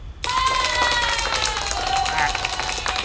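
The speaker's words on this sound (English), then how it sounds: "I'm just going to add some applause" Applause sound effect dropped into a fundraiser broadcast: a dense, loud wash of crowd clapping and cheering with some tonal ringing, starting abruptly and running steadily throughout.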